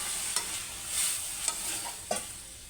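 Vegetables frying in hot oil in a pot while dal is cooked, a steady sizzle broken by several sharp scrapes of a stirring spoon, close and moderately quiet.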